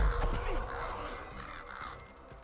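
Birds caw in a fantasy video game, Dragon Disciple, a few harsh hoarse calls at moderate distance over quiet ambient background.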